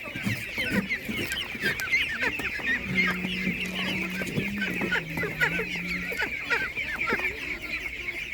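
Several chickens cluck and murmur nearby at an animal market, one drawn-out low call in the middle, over a busy background hum.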